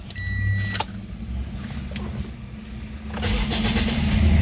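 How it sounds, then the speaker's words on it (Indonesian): A motorcycle engine starts up after a short whirring crank, then idles with a low steady rumble that grows louder toward the end, close by, with no talk. "Sekarang kita coba nyalain dulu mesinnya dan kita test drive lagi sekali lagi."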